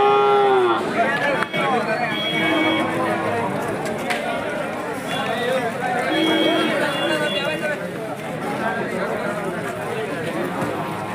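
Cattle moo repeatedly at a busy cattle market at a temple, their calls rising over constant crowd chatter and close talking voices.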